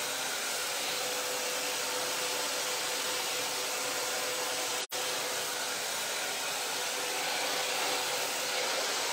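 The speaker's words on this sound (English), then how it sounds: "Working with the Porlux diffuser, with the Magic Sense diffuser." A hair dryer fitted with a diffuser blows steadily while drying curly hair in a salon, a loud even whoosh with a faint whine, briefly cut off for an instant midway before resuming.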